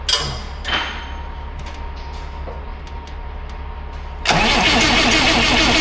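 A truck or tractor engine, freshly rebuilt on the top end with new valves, cranks and tries to catch for about four seconds, then fires and runs loudly and steadily through the rest of the clip.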